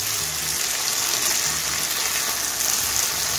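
A soft-cooked potato dish stirred in a pan over high gas, a dense continuous loud sizzle with faint stirring movement underneath.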